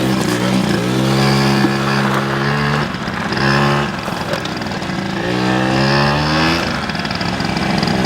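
A moped engine buzzes and revs up and down in repeated surges, its whining pitch rising and falling over a steady motor drone.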